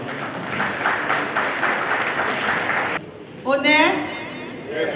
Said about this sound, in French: Applaudissez pour vous-même qui êtes ici ce soir.